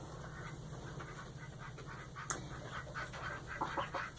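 A broody hen sits on a nest of eggs, letting out soft, low clucks and murmurs among other fowl sounds. The sounds are faint and close, with a steady background hum and no talking.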